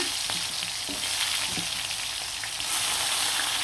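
Chicken pieces coated in turmeric and salt fry in hot oil, producing a steady, bright sizzle close to the pan, with a few soft knocks from stirring or pieces being added and a louder surge near the end.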